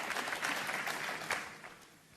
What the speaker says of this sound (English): Applause for a good shot.